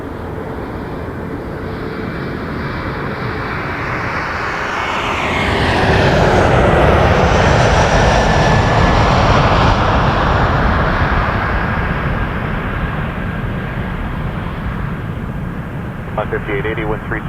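A plane takes off from runway 06 left at Toronto Pearson Airport, its engine roar building steadily and peaking loud at mid-clip before slowly receding into a sustained distant drone.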